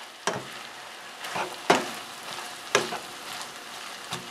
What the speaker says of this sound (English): So I'm going to let that butter melt. And the onions and celery are going to get soft.